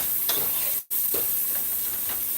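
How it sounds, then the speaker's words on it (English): Onions sauteing in butter for a homemade salmon chowder give a steady sizzle and hiss, broken by a short stirring scrape and a brief drop in sound near the start. "add butter, and we're going to saute the onions"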